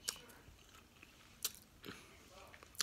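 Someone chews keto cornbread made with eggs and buttermilk, close and quiet, with soft mouth sounds and a few sharper bites or smacks spread over a few seconds.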